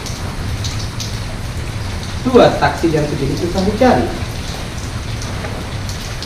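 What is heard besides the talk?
rain falling during a motorcycle ride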